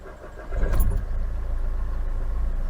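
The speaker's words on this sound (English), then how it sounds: "The engine thunders into life." A car engine cranks and fires, then settles into a steady, rumbling idle that holds close and continuous to the end.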